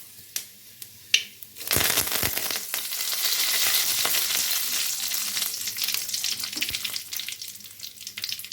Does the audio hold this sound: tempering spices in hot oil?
yes